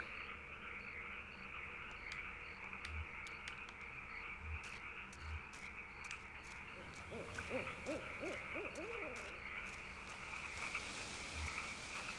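A few faint, low owl hoots in the video game Kentucky Route Zero sound over a hushed night backdrop of croaking frogs and insect chirps.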